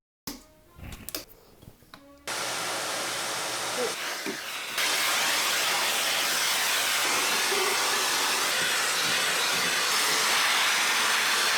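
A vacuum cleaner runs in a boys' bedroom, roaring loud and steady in a broad hiss. It starts abruptly after a few seconds of small handling knocks, then swells to a fuller, louder drone that holds to the end.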